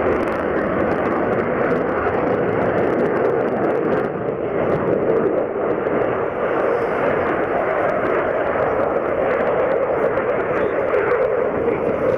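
Rafale fighter jet flying at the RNAS Yeovilton airshow, a steady, loud, broadband roar of jet engine noise that holds without a break.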